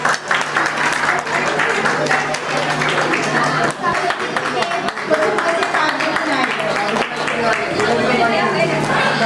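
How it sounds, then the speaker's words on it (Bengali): Loud, sustained audience applause fills an indoor scholarship award ceremony in the Sundarbans, steady clapping throughout with crowd chatter and a voice mixed in beneath. "আরো একবার জোরে হাততালি হয়ে যায়।"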